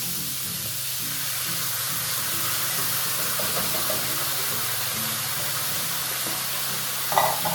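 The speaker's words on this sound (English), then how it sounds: "our quinoa, stirring all that around." Beans, corn, tomatoes and quinoa are stirred in a hot skillet, a soft continuous sizzle and hiss with faint scraping from the spoon, close and steady, ending with a small clatter.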